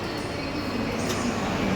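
A children's ride-on train runs inside a shopping mall, giving a steady, loud rumbling roll that continues without a break against the busy indoor background.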